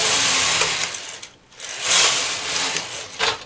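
A domestic knitting machine carriage sweeps across the needle bed twice for two rows of lace, each pass a loud, close mechanical whirring rattle, separated by a brief quiet pause.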